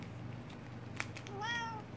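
A cat gives a single short, rising meow up close while excited by catnip, heard over a steady low background hum, with a faint tap just before it.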